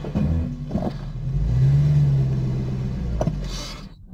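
A Toyota or Lexus car engine cranking and catching, then idling with a low steady rumble close by, followed by a couple of short bumps and clicks.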